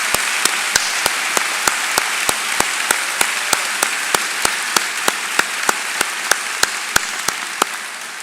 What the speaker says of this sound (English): one last round of applause from your FAU fans.